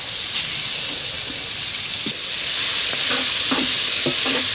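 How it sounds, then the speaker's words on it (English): Butternut squash stew sizzles steadily in a Dutch oven over an outdoor fire pit, a loud continuous frying hiss with a few soft clinks of stirring near the end. "Oh, hear that sizzle?"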